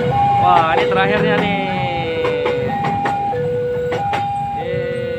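A long Indonesian freight train passing close by a level crossing, its horn sounding in repeated steady blasts over the rumble of wagons, with crossing bells and a voice briefly underneath.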